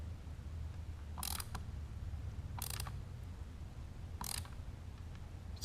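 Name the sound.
3D printed plastic part compressing as bolt is tightened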